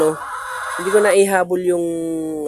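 A Rhode Island Red hen sitting on eggs gives loud, drawn-out, tonal brooding clucks and a rising murmur, close by and continuous through the short span.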